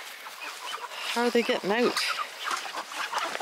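Chickens cluck in a short burst of calls at a farmyard pen, close and fairly loud, mixed with people talking over them.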